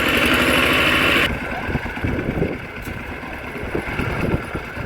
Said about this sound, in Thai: ก็พากันติดรถไถ